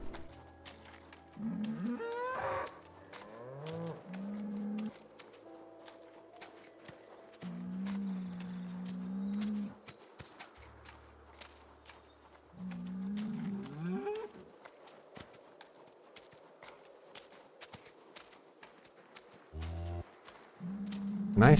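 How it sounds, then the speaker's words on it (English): Several cows in the video game Project Zomboid moo in repeated low, drawn-out calls over about twenty seconds, some overlapping, with quiet footsteps and faint background noise between them. "I'm assuming the cows are louder than I am."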